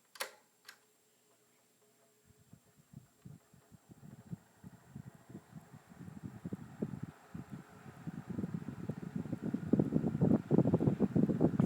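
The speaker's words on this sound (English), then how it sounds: "I also really like the nice sputter the blades make on this fan" A 12-inch Blue Galaxy table fan runs on its low speed, its blades giving a soft, uneven sputtering flutter that starts faintly after a couple of clicks and grows steadily louder and denser, with no voices.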